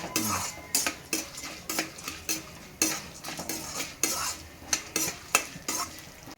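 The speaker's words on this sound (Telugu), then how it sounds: "మిరియాలు ఇవన్నీ వేగాలి దోర వేగ మంచి లైట్ కలర్ గోల్డ్ కలర్ వచ్చినాక" Peppercorns frying in a pan while a utensil stirs them, a repeated series of sharp metallic scrapes and clinks roughly every half second over a soft sizzle, close and fairly loud, no talking.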